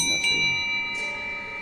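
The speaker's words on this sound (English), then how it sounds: "So use the bell here." A bell rings in a video game, one clear metallic strike with a long sustained ringing tail, and a second bright chime enters partway through.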